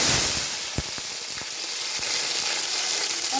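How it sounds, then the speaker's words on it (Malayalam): Garlic sizzles loudly in hot oil after mustard seeds have popped, for Kerala mango pickle, a dense steady hiss with a few sharp crackles and pops scattered through it. "കടുക് പൊട്ടിക്കഴിഞ്ഞ് ഇനി വെളുത്തുള്ളി ഇടാം."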